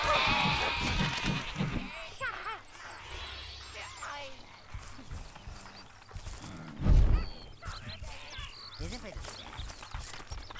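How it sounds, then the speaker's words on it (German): Sheep bleating in the video game Overlord, a few wavering bleats heard amid game effects, clatter and a deep thump, with voices talking in places. "Ich höre niedere Kreaturen blöken, Milord."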